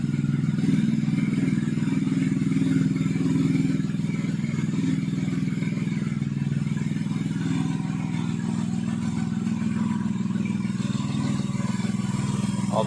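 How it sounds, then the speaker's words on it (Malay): Perodua Kancil with an Avy turbo engine idling after a long run, a steady low rumble with light mechanical clatter, close and continuous. "Dah start lama. Kita tengok keadaan enjin."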